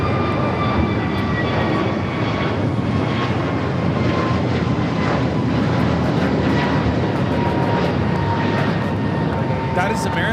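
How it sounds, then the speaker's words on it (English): American Airlines Airbus A321neo taking off at Los Angeles LAX, a loud sustained jet roar with whining engine tones drifting slightly in pitch, steady across the whole stretch. "2888 taking off to Chicago on the A321neo"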